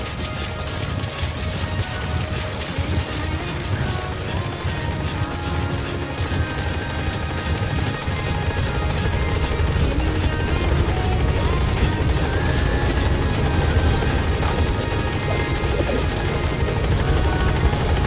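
Support helicopter from Metal Gear Solid V arriving at a landing zone: a loud, steady rotor roar that swells slightly and holds throughout, with no talk over it.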